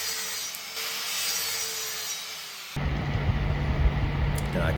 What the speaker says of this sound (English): Then I cleaned them up a little on a little disc sander that I had from the Lidl, the Parkside disc sander.